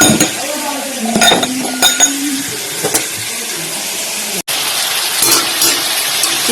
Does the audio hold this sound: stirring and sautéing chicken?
yes